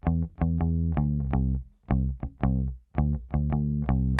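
A clean, dry electric instrument, recorded direct-input with no amp, plays a steady line of plucked low notes, each attack sharp and short, with no room sound or effects.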